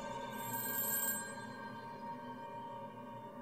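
A telephone rings steadily with a bright electronic trill, part of an automated calling system dialing every number in East Point, heard alone against a faint background hum.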